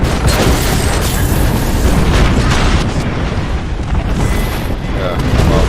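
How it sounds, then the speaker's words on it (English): Airstrike explosions in a battle royale shooter, a dense, continuous roar of booming blasts and rumbling impacts that stays loud throughout, with talk mixed underneath. "Airstrike."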